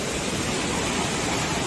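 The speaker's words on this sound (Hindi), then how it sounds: "ये हो गया छोटा सा झरना जहाँ से बह के आ रहा है" A small waterfall on a hillside stream makes a steady, dense broadband rush of flowing water, close and constant throughout with no voices.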